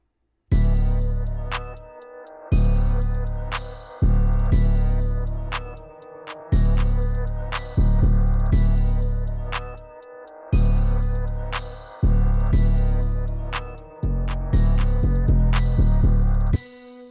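A loud, raw unmixed hip-hop beat made in FL Studio plays with heavy booming bass hits, crisp snares and rapid hi-hats in a steady repeating pattern, no vocals over it.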